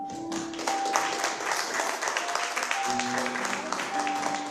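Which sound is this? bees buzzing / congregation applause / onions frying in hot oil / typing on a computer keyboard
congregation applause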